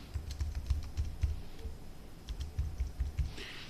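A password being typed on a computer keyboard, a quick, quiet run of close key clicks in short bursts with a brief pause partway through.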